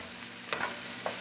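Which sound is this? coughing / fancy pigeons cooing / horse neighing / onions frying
onions frying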